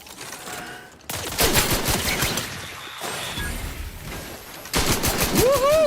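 Weapon fire in the video game The Outer Worlds 2, loud rapid bursts of gunshots in two volleys with mechanical clatter and a quieter stretch between them.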